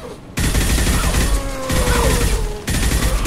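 Sustained automatic gunfire in Mass Effect 2 rips at husks in loud, dense bursts, with two brief pauses between the volleys.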